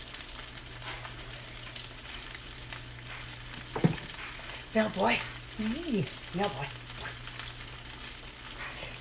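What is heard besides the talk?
fish frying in a frying pan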